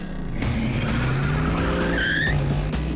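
A muscle car accelerates hard toward a Corvette with tires squealing, a loud, close engine roar rising steadily in pitch with a sharp screech of rubber layered over it throughout.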